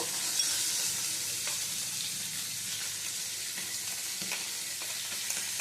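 Pomfret fish fries in hot oil in a pan, a loud continuous hiss and crackle with faint scraping as the fish is turned, close and steady throughout.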